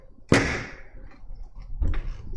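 Carving a small three-quarter-inch stone seal produces a sharp close crack or knock, then a softer second scrape-like hit about a second and a half later over low background rumble.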